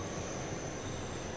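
A train on the Cathcart Circle Line out of Glasgow Central in Train Sim World 2 rumbles steadily as it accelerates, with a constant broad roar and a high whine overhead, loud and close with no pauses.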